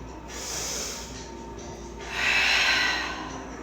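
Two audible yoga breaths taken while holding plank pose, a softer airy inhale followed by a louder, longer hissing exhale, close and alone.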